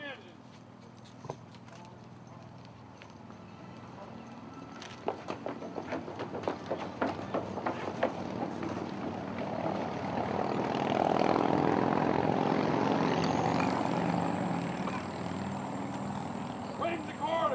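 Engine aboard the USS Water Witch replica ship starting up at a dedication in Columbus, GA: a steady mechanical rumble builds and swells into a louder sustained drone, with scattered clicks and knocks at the start.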